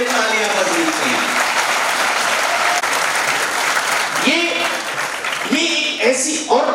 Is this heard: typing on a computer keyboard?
no